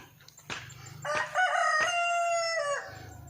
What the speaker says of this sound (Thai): นี่คือขยายเล้าไก่ ให้ไก่มีอิสระมากกว่าเดิม